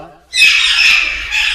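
A parrot at a breeding aviary lets out a loud, harsh squawk close up that holds for over a second.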